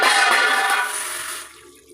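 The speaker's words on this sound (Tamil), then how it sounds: "இப்போ புளி கரைச்ச தண்ணி அதில் ஊற்றிக்கலாம்" Tamarind water, made with rice-washing water, pours into a hot frying pan of fried chili and turmeric powder, giving a loud rushing hiss that fades away over about two seconds, with no voices.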